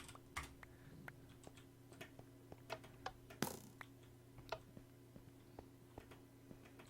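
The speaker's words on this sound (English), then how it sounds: "He's typing." Computer keyboard keys tapped in sparse, uneven clicks, close and fairly quiet over a steady electrical hum, with one sharper louder knock partway through.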